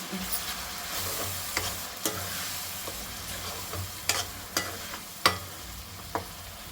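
Tomato puree sizzling in a pan of rohu fish curry, a soft, steady frying hiss punctuated by several sharp spoon clacks against the pan, close and fairly quiet with no talk.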